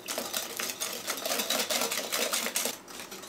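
Eggs whisked into butter and sugar for a banana bread batter give a fast, steady, rhythmic clatter of whisk against bowl, close and continuous with no talking.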